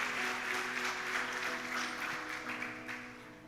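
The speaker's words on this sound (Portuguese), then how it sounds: "Você pode aplaudir Jesus por essa palavra?" Church congregation at an evening worship celebration applauding steadily, a dense wash of clapping from many hands filling the room, fairly distant and even throughout.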